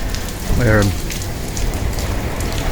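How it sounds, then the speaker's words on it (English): Heavy rain pours down in a city during a storm, a dense steady hiss spread evenly across the whole stretch, with a brief tonal sound near the start. "It's just raining so much."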